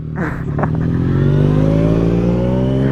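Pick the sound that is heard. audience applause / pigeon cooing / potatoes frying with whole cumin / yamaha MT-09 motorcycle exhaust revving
yamaha MT-09 motorcycle exhaust revving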